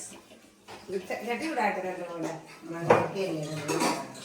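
A new clay cooking pot is handled with light clinks and knocks, heard under a person talking.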